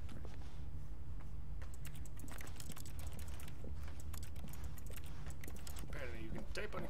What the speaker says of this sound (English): Apparently you can type on a keyboard in a hole.